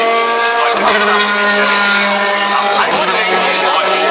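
A 1984 BMW racing car in the historic Legends Parade at Spielberg roars past loudly, its engine note swelling and shifting as it passes, with an announcer talking over the noise.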